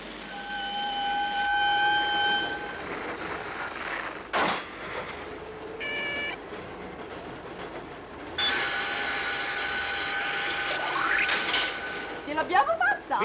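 A cartoon train rumbles past with a long sustained horn, mixed with music and bursts of voices over the steady rolling noise.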